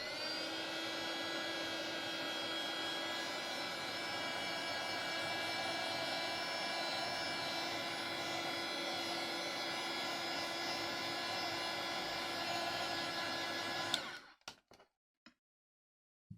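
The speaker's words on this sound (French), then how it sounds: "Donc là, ben, on sèche." A hair dryer blows steadily at close range over a painted background of pigments, a loud continuous whine with a stable pitch for about fourteen seconds, then it cuts off abruptly, leaving near silence with a few faint clicks.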